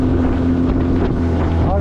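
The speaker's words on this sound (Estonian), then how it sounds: "Mul on pandud see kõige kiirem kruvidale taha ja 15 hobuseline mootor" A small boat driven by a 2016 15-horsepower outboard motor fitted with a fast propeller runs at a steady high drone, loud and close, with wind buffeting the microphone.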